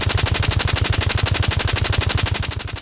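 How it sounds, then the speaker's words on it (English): Rapid automatic gunfire from a video game weapon, a dense, evenly spaced stream of loud shots with metallic bullet casings clinking onto the floor beneath. "the sequence is topped off with a loop of bullet casings hitting the floor"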